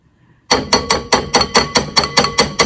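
A fork taps against the rim of a bowl while coating bourbon balls in melted chocolate, about a dozen quick, even, bright clinks in steady rhythm, close and clear with no talk.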